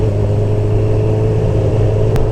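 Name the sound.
Honda CB1000R motorcycle engine revving with throttle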